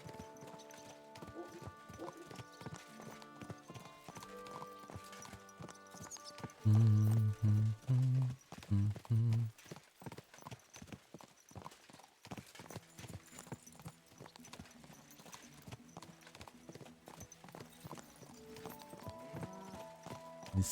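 Horse hooves in the medieval video game Kingdom Come: Deliverance II, rhythmic clip-clop of a trotting horse with a louder burst of hoofbeats midway, over soft background music.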